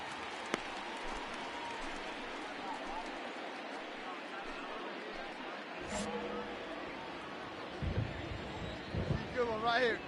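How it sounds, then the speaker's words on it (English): Rain falls steadily on an open baseball stadium during a Cincinnati at Chicago game, a broad continuous hiss of spray that thickens slightly, with faint crowd murmur and voices near the end. "the rain starting to intensify here. It's coming down a little heavier now"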